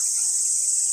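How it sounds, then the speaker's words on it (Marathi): Steady, dense insect chirring of crickets, a continuous high-pitched drone with no pauses, fairly loud and close, with no voices. "रातकिड्यांचा आवाज आहे"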